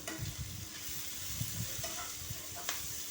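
Mixed vegetables of radish, carrot, okra and peas frying in a pan, a steady close crackling sizzle with faint stirring scrapes, no voices.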